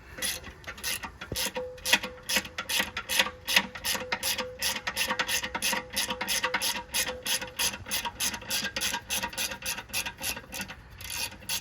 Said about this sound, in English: I like using a short 15mm socket to get those out with